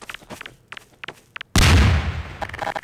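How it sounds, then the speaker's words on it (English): A grenade explodes in Garry's Mod with one sudden loud blast that rumbles and decays over about a second, after a few short light taps. "let's just grenade this thing."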